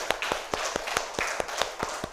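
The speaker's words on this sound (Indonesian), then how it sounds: "beri tepuk tangan untuk kelompok 1" Applause for a group of students in a classroom, a few people clapping in a loose, steady rhythm of distinct, fairly close claps over roughly two seconds.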